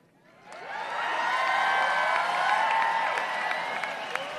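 A large crowd at Hostage Square in Tel Aviv cheers and applauds, a dense swelling roar of many voices and clapping that rises quickly and holds loud.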